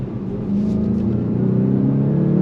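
A steady, low engine drone inside a 2024 VW GTI 380 with a manual gearbox, a smooth continuous hum with a faint rise in pitch near the end.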